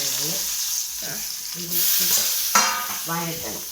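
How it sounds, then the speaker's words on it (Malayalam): Chopped ingredients drop into a hot pan and are sautéed and stirred, making a close, continuous sizzle with scraping stirs. Brief voice-like sounds come and go over the frying. "മുമ്പേ അരിഞ്ഞു വെച്ച് സാധനങ്ങളെല്ലാം അന്നത്തിലോട്ട് ഇടുവാണ്."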